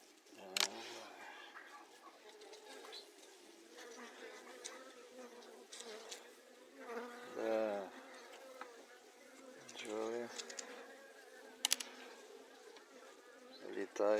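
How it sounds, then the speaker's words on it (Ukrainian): Honeybees hum steadily and closely around a hive in a low, continuous buzz, with louder swells as individual insects pass near, and faint bird calls in the background. "Бджоли"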